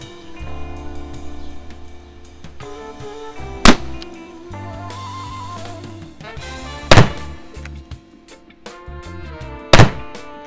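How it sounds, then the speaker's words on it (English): An air gun firing 9mm-style projectiles at a TV, three sharp, loud impact cracks spaced a few seconds apart, close by, over a steady background of indoor hum and faint tones. "Let's shoot the TV."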